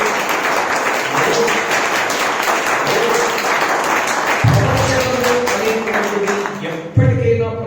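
A Sunday church service congregation claps together for a sustained stretch, a dense, steady wash of hands with voices and some sound mixed in underneath.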